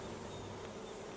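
A steady, close insect buzz hums continuously, like bees droning around flowers, with no voices present.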